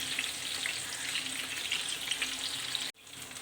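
Tomatoes, eggplant and garlic fry in a pan with a steady, dense sizzle that carries on evenly, then cuts out abruptly for an instant near the end before resuming.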